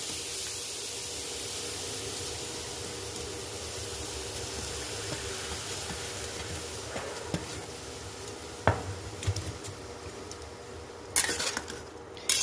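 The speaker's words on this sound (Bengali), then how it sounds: "আর গাজরটাকে নাড়বো ঘিয়ের মধ্যে কিছুক্ষণ।" Carrots sizzling in hot ghee in a kadai for gajar ka halwa, a steady frying hiss with occasional utensil scrapes and clinks from stirring, growing busier toward the end.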